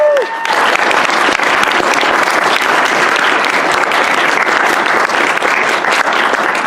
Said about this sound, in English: if you guys can give them a round of applause here